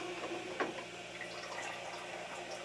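Water from a home water softener's filter tank pours into the septic drain while the float is lifted, a steady, close gurgling rush with a small splash early on.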